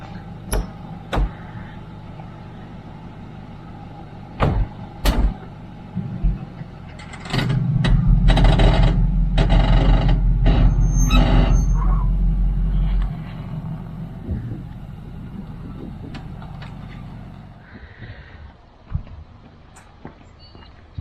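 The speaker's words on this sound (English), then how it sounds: "and now I just drive off." A van fitted with a McHitch coupling drives away after unhitching a trailer, with clanks and knocks before a loud engine rumble rises for several seconds and then fades, followed by a few clunks.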